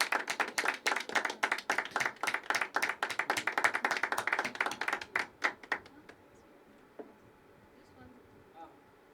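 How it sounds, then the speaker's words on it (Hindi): Audience clapping at a poetry open mic, a dense burst of hand claps for about six seconds that tapers off into scattered claps and room quiet. "जोरदार तालियां तालियां तालियां फॉर निदा"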